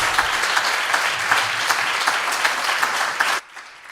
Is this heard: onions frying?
no